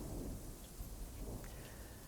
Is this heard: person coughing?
no